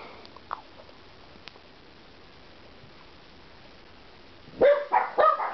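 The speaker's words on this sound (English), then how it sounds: "Shut up, dogs!" Several dogs bark in a short burst near the end, loud and somewhat distant-sounding, after a mostly quiet stretch with faint background noise; no talk during the barking.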